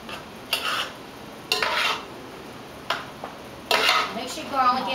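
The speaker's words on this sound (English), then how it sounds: "Mix your garlic in well." A spoon scrapes and stirs jambalaya with garlic in a pot on a stovetop, giving four bursts of rough scraping and clattering against the metal pot, separated by quieter pauses.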